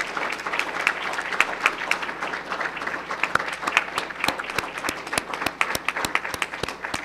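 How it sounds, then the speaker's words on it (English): A round of applause at a Will County board meeting, a small room of people clapping steadily for about seven seconds, with sharp individual claps standing out near and the clapping thinning toward the end. "let's give them a nice round of applause"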